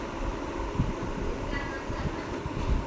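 Steady rumbling of a train moving along the tracks, a continuous broadband roar with occasional low thumps, close and moderately loud.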